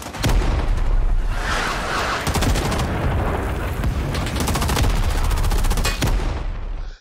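Rapid bursts of submachine gun fire in the Rising Storm video game, loud and close, with continuous crackling automatic shots running almost the whole time amid the din of a battle inside a village.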